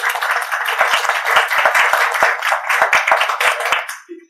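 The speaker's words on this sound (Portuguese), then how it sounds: "Salve de palmas." A close round of hand clapping from a small group at a talk on elderly care and palliative care, steady and crisp for about four seconds before stopping abruptly, with a short voice at the very end.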